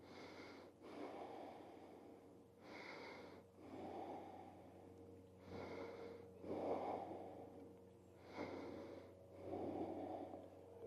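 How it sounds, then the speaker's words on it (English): Slow, quiet nasal breathing during a fascial movement class, with each breath drawn in through the nose and released out in a steady rhythm, about five soft cycles heard up close with no talking. "breathing in through the nose and out"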